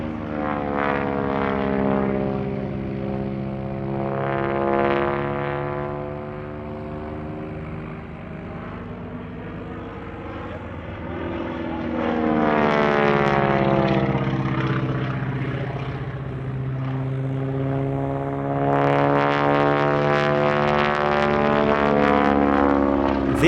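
A propeller airshow plane carrying dozens of wingtip pyrotechnic smoke canisters makes repeated loud passes at the Australian International Airshow, its engine drone rising and falling with strong Doppler sweeps as it flies by.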